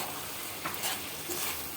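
Vetki fish-bone chorchori, a Bengali curry with garam masala powder, is stirred in a pan. A steady soft sizzle runs throughout, with a few light scraping strokes, close and fairly quiet.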